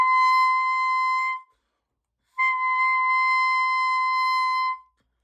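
Two long, steady reedy tones from a clarinet mouthpiece played on its own, held at about a 45-degree angle. Each note lasts over a second, with a short silence between them and no talking.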